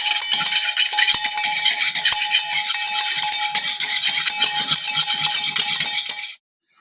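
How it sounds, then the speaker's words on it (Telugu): A spoon or whisk scrapes and clinks steadily around a bowl of Mysore bonda batter with yogurt and baking soda, a continuous brisk stirring rhythm up close with no talking, then it stops abruptly. "ఇప్పుడు బాగా కలుపుకోవాలి"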